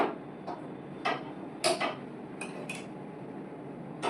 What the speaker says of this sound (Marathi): आता मी गॅस चालू करते